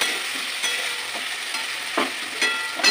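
Banana flower kofta mixture frying in a pan, a steady sizzle with light stirring and scraping taps every half second or so, close and fairly loud, and no talk.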